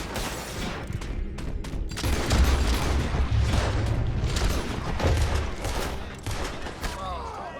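Gunfire in Red Dead Redemption 2 during a shootout near Van Horn, a heavy barrage of overlapping shots and booms lasting throughout, loud and close, with distant cracks mixed in.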